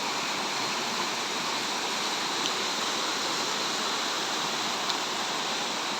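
Rushing water at Pradhan Pat waterfall in the Deogarh area makes a constant, loud, broadband roar with no breaks, steady and close from start to finish with no voices.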